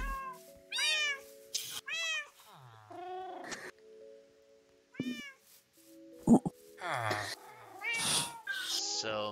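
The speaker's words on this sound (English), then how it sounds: "So many cats." Several cats in the Minecraft video game meow repeatedly in overlapping, drawn-out calls, some short and some wavering, clear and fairly loud against a quiet background, with no talking over them.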